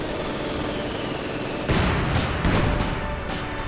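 Mortar coordinated barrage in the video game Company of Heroes 2, a couple of heavy booming impacts bursting out after a steady rumbling battlefield ambience.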